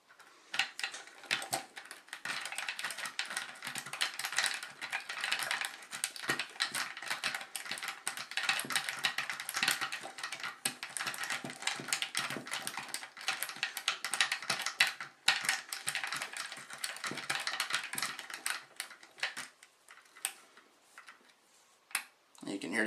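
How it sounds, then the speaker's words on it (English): A homemade paperclip lock pick works the pins of a lock, producing continuous dense small clicking and ticking with scraping metal, close and fairly faint, with some quiet speech underneath. "You can hear those pins springing back when I let go of the tension"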